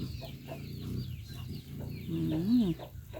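Free-range village chickens cluck repeatedly at close range, with short rhythmic calls and a rising squawk toward the end, over quiet background noise.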